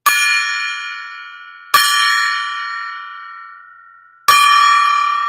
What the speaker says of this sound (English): I'm going to ring the golden gong because we got a record crowd tonight.